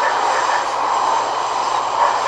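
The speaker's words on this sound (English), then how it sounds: "This is a red line train to Daybreak." Red line light rail train to Daybreak rolls along with a loud, steady broadband rush and rumble of wheels and motors inside the car, continuous throughout.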